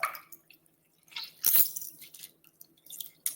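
Lemons and basil are squeezed by hand in a Haitian bluing bath, giving soft wet squelches and drips with one louder splashy squish in the middle, close and otherwise quiet.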